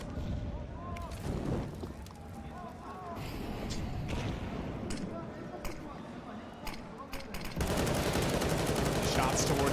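Gunfire in a Counter-Strike match, scattered sharp shots and bursts at irregular intervals, growing into denser rapid fire near the end, with talk throughout.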